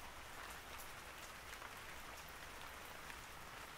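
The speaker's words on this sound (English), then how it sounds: "sit back with the sounds of rain" Steady rain falling and pattering on a surface, a dense continuous hiss with scattered droplet ticks, even and unbroken throughout with no voices.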